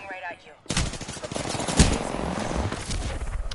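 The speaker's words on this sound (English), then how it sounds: "So somebody's shooting at me" Rapid automatic gunfire in a PS4 shooter game starts abruptly after a brief quiet moment, then keeps going as a dense, loud burst of shots that lasts to the end of the clip.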